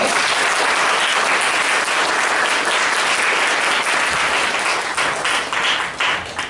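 A church congregation claps in welcome for a visiting pastor, a loud, full round of applause that stays dense and steady before thinning slightly at the end.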